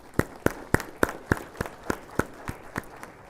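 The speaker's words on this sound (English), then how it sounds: "all of you will join me in a round of applause for them" At an award ceremony, about a dozen sharp, evenly spaced claps ring out in a steady rhythm, close and fairly quiet, like one person clapping rather than a full crowd.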